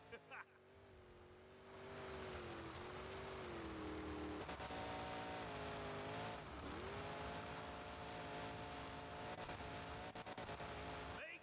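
A monster truck engine roars loudly and steadily in the Monster Jam Showdown video game, its revving pitch rising and falling with bursts of rumble and rough impacts across the whole stretch.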